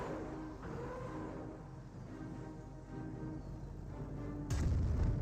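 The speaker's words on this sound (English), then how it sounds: "Naval Warfare firing away" Naval artillery barrage in Company of Heroes pounding a base, a continuous low rumble of distant shelling that ends in a sudden loud, close blast.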